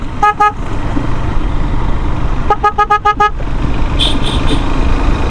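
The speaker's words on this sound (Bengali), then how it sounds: "আমি বলতেছি ওই হর্ন কে দিতেছে।" A vehicle horn blares in two rapid series of short toots, loud and near, over road traffic noise, with a fainter higher beep near the end.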